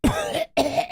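A voice imitates a smoker's coughing fit, two harsh, throaty bursts separated by a brief pause, close and loud.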